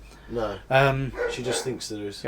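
A dog barks and yips in the room during a podcast, close and fairly loud, its calls overlapping steady conversation between people.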